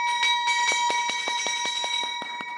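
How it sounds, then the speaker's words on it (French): An electric bell rings in a steady, rapid clatter of repeated metallic strikes with a sustained ringing tone at a BRVM stock exchange listing ceremony, loud and unbroken throughout. "Cette cloche qui sonne retentit ici dans cette salle"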